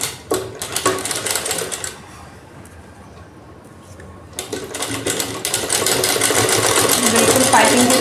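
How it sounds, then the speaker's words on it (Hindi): Sewing machine stitching piping along the edge of a blouse back neck, a loud steady whir in two long runs separated by a quieter pause, with someone talking over it. "पाइपिंग के बिल्कुल किनारे से सिलाई लगाएंगे।"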